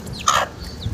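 A chicken gives a short, sharp cluck close by, a single brief call over a quiet background.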